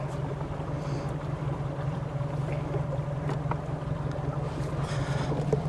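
A fishing boat motors across a lake, its engine a steady low drone that stays constant throughout with light wind and water noise, no talking.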